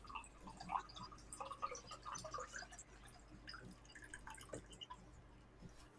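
Rum pours into a tiki glass with a trickling, dripping splash, soft and close, continuing for several seconds over faint background sound.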